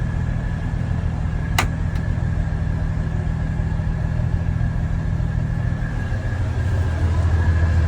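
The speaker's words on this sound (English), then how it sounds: "So it's been idling perfectly for the past 15-20 minutes already." The 7MGTE engine of a 1989 Toyota Supra MK3 idles steadily once fully warm, a constant low rumble with a faint whine, heard close and loud, with one brief sharp click early on.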